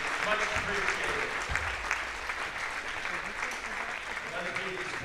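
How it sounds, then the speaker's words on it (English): A gym crowd at a North Dakota high school girls' basketball game applauds seniors and their parents, giving dense, sustained clapping with voices and cheering mixed in throughout. "let's give these seniors and their parents a round of applause for all the dedication and hard work"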